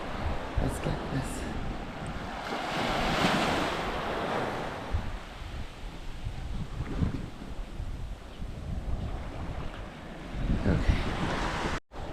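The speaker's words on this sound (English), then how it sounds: "This is Runway Beach." Ocean waves break and wash ashore on Runway Beach in Antigua, a steady, loud surf roar with rolling swells mixed with wind buffeting the microphone; a voice speaks briefly.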